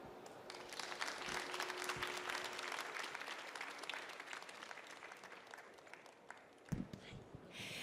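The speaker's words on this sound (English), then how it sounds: "Please give a big round of applause." Audience applause closing a smart-cities panel session, a thick, sustained wash of clapping heard from a distance, thinning toward the end with a brief bump near the close.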